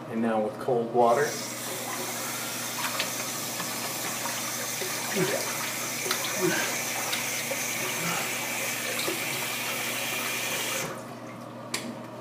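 Cold tap water pours steadily into a sink for a post-shave rinse, a close, even gush with small splashes and brief gaps at the start and end.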